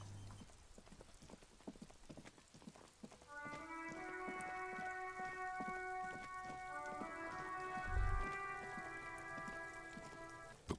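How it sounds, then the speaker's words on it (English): Rain falls steadily in a video game, a soft patter under clopping horse hooves, with a sustained tonal chord of music joining partway through; the overall level is faint. "It's raining again."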